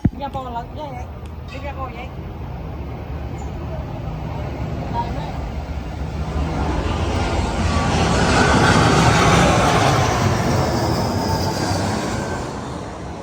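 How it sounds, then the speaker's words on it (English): An airplane roars low overhead on Koh Samui, swelling from a distant rumble to a loud peak and then easing, with people talking in the foreground at the start. "Aeroplanes come in absolutely everywhere here"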